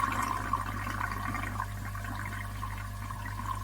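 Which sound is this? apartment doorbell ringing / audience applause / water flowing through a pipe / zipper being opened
water flowing through a pipe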